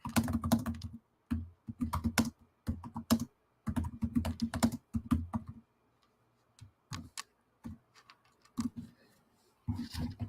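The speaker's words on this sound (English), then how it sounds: "if I could type" Computer keyboard typing in bursts, clusters of sharp close key clacks broken by pauses, with a few scattered taps near the end and no talk.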